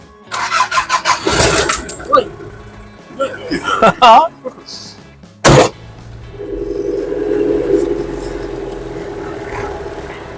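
A diesel car engine cranks with a rapid churning and catches, then settles into a steady idle. Voices talk and laugh nearby at a vintage car fair.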